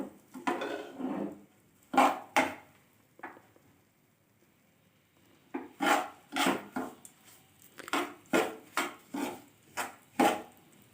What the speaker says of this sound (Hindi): तो हम इसको हल्की आग पर भून लेंगे।